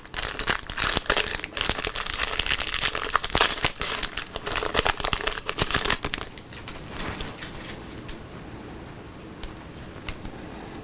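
The foil wrapper of a 2016 Prizm Racing trading card fat pack crinkles loudly as it is torn open, dense crackling up close that tapers into softer rustling toward the end.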